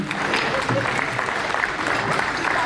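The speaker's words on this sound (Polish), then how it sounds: "bardzo proszę o wielkie brawa dla wszystkich, którzy nas dzisiaj poczęstowali swoim, swoimi przysmakami" Crowd applause at an outdoor municipal festival marking 25 years of Wieliszew commune, thanking those who served food: steady, dense clapping from many people lasting a few seconds.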